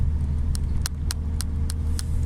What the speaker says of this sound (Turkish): Abi şimdi bastım gaza.